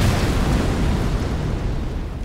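A fire attack in the Elden Ring DLC, a loud, roaring explosive burst of flame that fills the clip and slowly thins toward the end.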